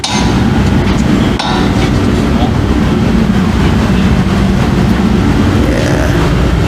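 Metal hammer strikes drive a Honda Civic R18 turbo engine part flush through an extension bar in a garage, buried under loud, constant broadband noise with one sharp impact standing out.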